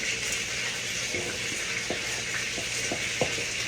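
Chicken pieces dredged in flour fry slowly in a covered pan, giving a steady, close crackling sizzle with soft scattered pops and light stirring clinks throughout.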